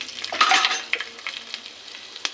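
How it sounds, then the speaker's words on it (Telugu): Mustard seeds and dried red chillies sizzle and crackle in hot oil, with scattered pops and a brief louder hiss early on, close and without speech. "ఇది స్టవ్ వెలిగించుకొని నేను ఆయిల్ పోసుకున్నానండి. ఇగోండి ఆవాలు, ఎండుమిరపకాయలు"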